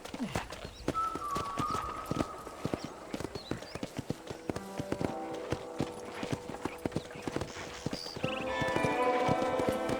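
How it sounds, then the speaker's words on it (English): Steady clip-clopping hooves of a ridden horse in the video game Red Dead Redemption beat in a rhythmic pattern, with the horse whinnying briefly, and faint music rising toward the end. "let's see if you can still ride a horse"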